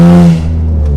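A car engine with an exhaust leak runs rough after a downshift, a loud, close, droning rumble that steps down in pitch and sputters briefly.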